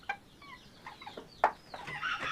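Blue and black Old English game hens and roosters cluck in scattered short calls around a coop, one sharp loud squawk in the middle and a rising chorus of clucking toward the end.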